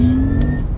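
A modified Porsche Taycan electric car, a TechArt conversion, gives off a brief, loud, futuristic sound: a steady low electric hum layered with a thin high whine, lasting under a second.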